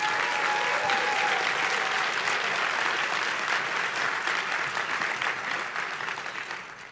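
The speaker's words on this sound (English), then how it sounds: "One more round of applause for everyone." An audience at a Boys and Girls Clubs benefit event applauds in a dense, sustained wave of clapping that carries steadily for several seconds before tapering off at the end.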